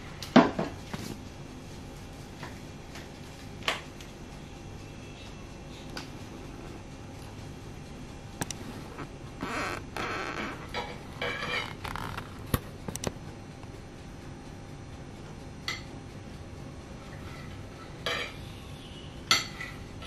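A knife cuts through a baked banana cake on a plate, with soft scraping and occasional light clinks of metal on the dish, scattered and quiet over a low room background.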